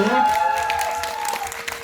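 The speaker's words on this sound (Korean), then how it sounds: "우리 저기 철구역에 박성민 배우님 박수" Audience applause at a film screening Q&A (GV) for the Korean film 오늘 출가합니다, clapping spreading through the room for a cast member while a voice carries over it.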